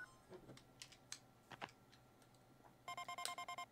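Pocket device in Paper Mario: The Thousand-Year Door Remake beeping for incoming mail, a rapid run of about eight bright electronic bleeps near the end after scattered clicky game effects.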